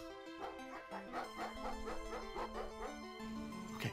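Dog barking in the lawn-mowing video game Hover Bovver, a run of short yips and bow-wows over steady game music with a sustained low tone, close and moderately loud throughout.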